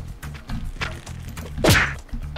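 A robot in the video game Clone Drone in the Danger Zone lands a kick on an enemy: a single sharp thunk near the middle, set against busy game background sounds.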